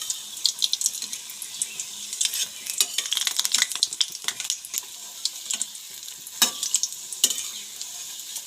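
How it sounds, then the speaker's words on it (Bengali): Small hog plum blossom fritters fry in mustard oil in a wok, giving a steady bubbling sizzle with crackling spikes throughout and no talking. "কড়াইয়ের মধ্যে সর্ষের তেল দিয়ে ছোট্ট ছোট্ট করে এরকম বড়ার মতো করে ভেজে নেব।"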